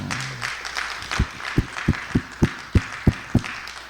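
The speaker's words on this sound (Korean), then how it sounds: "우리 이 집사님께 박수 한번 드려주세요" Church congregation at a revival meeting gives a short round of applause for a deacon, sparse at first and then settling into a few distinct, evenly spaced loud claps.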